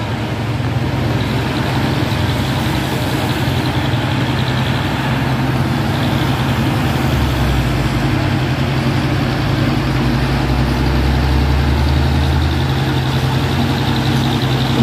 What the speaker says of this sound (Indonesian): ada Puso dan Hino di bawah sana mau nanjak